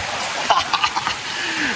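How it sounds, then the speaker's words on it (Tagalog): Heavy rain pours steadily during a typhoon at a campsite in Pampanga, Philippines, a dense close hiss with a few sharper splashes and no talking. "sobrang lumalakas na may ulan talaga"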